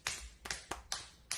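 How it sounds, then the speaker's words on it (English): Sharp claps from a recording, five separate hits at an uneven pace, moderately close and with no voices over them. "That's someone clapping their hands."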